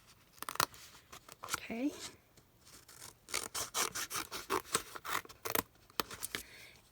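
Scissors snip through a piece of material across a border, in short irregular cuts close by, with a brief spoken word at the start.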